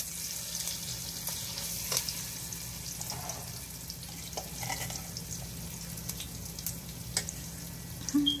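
Spices fry in a pan of oil for a Haitian vegetable stew, giving a soft, continuous sizzle with a few light clicks and stirring noises, fairly quiet and with no voices.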